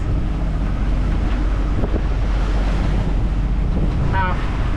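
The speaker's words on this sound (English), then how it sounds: "The winds are between 18 and 20." Strong wind of around 18 to 20 knots roars constantly over a sailboat under head sail in squally weather, as a loud rushing buffet against the microphone, with water wash beneath and a brief creak near the end.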